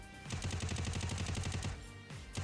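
Rapid automatic gunfire from the mobile shooter game Free Fire, a fast steady burst of shots for nearly two seconds, loud and close, ending in a couple of single shots, with no talking.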